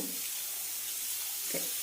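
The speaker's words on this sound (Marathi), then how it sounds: "आपण आता लोखंडी तवा ठेवलेला आहे, याच्यावरती एक मोठा कांदा आपल्याला असा उभा चिरून घेतला आहे, तो आपण भाजून घेऊ" Sliced onion roasting on a hot iron griddle for a Kolhapuri tambda-pandhra rassa, giving a steady low sizzle with a few brief crackles and stirring touches.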